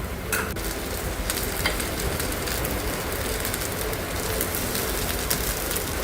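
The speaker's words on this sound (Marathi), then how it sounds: "उलटपलट करून चांगल्या छान अशा खरपूस सगळीकडून भाजून घ्यायचे" Kachori roast in butter in an appe pan with a dense, steady sizzle and crackle, close and continuous, broken by a few light taps as they are turned.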